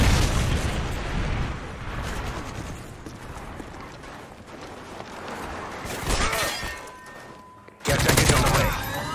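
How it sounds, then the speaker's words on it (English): Predator missile strike and gunfire in the Call of Duty Modern Warfare 3 video game on the Outpost map: dense bursts of shots and booming explosions, with a sharp loud blast near the end. "Friendly Predator missile inbound."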